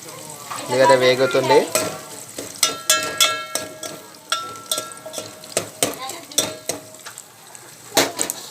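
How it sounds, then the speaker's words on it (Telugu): Onions fry in a pan with turmeric and spices, a steady sizzle broken by repeated clinks and scrapes of a utensil stirring against the metal, with a brief tonal clatter near the start. "ఉల్లిగడ్డ వేగుతుంది."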